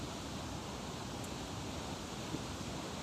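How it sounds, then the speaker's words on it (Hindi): A loud, steady rush of river water near a wooden footbridge on a mountain valley trek, broadband and constant throughout with no voices. "पानी की आवाज बहुत तेज आ रही है"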